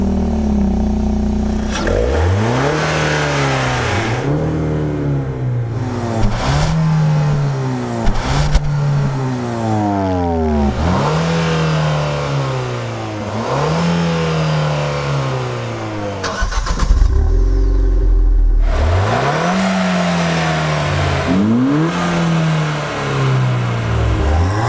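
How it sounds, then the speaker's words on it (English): A Ford Fiesta ST and a Ford Fusion rev their engines in turn in a rev battle, loud and close. Each rev climbs and drops again in a long series of repeated swells, with no talking. "Revving the Fiesta, aren't you supposed to be driving it?"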